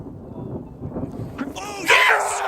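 Low thunder from thundersnow rumbles through an ice storm, a deep rolling boom under wind noise, with excited voices shouting over it near the end.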